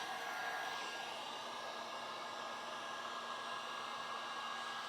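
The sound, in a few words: heat gun heating matte paint protection film edge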